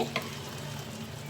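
Garam masala powder being stirred into a mutton and chickpea ghugni curry as it cooks, with a steady low sizzle and one brief scrape near the start.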